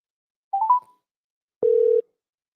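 A mobile phone placing a call gives a short rising set of tones, then after a pause a single steady dial or ringback beep lasting about half a second, clear and close with no talk.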